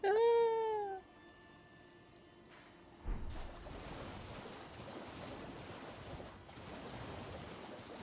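A single clear cat meow opens, followed by quiet, then a steady wash of surf-like noise.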